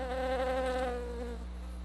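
A close, steady honeybee buzz at a beehive hums with a slightly wavering pitch, gradually fading a little.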